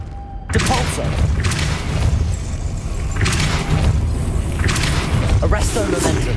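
A Depulso force spell goes off in Hogwarts Legacy as a heavy booming thump that sets off a rumbling crash, with further impacts and debris following. A voice calls out the spell over it.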